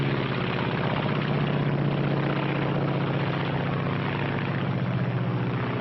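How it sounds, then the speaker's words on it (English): A Japanese Zero fighter plane flying, its propeller engine droning steadily and loudly with a throbbing hum that holds constant throughout, with no voices over it. "This is the Japanese Zero."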